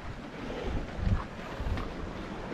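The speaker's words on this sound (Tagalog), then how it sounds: "Buti dito sa part dito mga master, kahit malalaki yung alon" Large sea waves and wind buffet a small fishing boat offshore in deep water, a steady rushing wash with low surges and gusty wind noise on the microphone, no talk.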